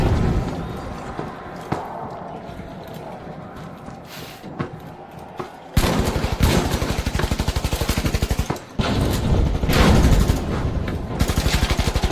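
Rapid automatic gunfire in the arena shooter The Finals: quieter scattered shots at first, then from about six seconds dense, loud bursts of rattling fire with a brief pause before resuming.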